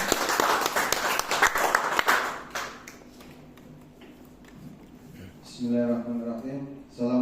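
Audience at a school event applauds a presenter with brisk clapping that fades out midway, followed by a quiet stretch and then a voice speaking.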